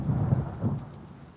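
Rain in a French children's cartoon, a close, steady patter with deep rumbling swells like thunder, with no voices.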